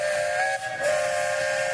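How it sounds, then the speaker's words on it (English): Steam whistles on a steamboat on Lake Nockamixon sound a sustained, breathy tone with a hissing edge. The blast breaks off briefly and then resumes, carrying loud and clear with no voices. "Those are whistles, not horns. Horns are on a car. Whistles are on a steamboat."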